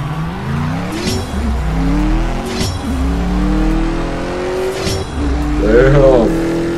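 Cars racing in the CSR2 Racing mobile game, engines revving up through rising pitch sweeps broken by sharp gear shifts, loud and close, with a voice talking over it.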